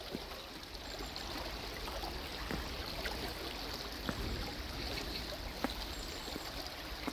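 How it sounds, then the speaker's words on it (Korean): Stream flowing under a stone bridge, a steady soft rushing of water with faint trickles and occasional light taps, heard alone at low level. "물소리 들으면서"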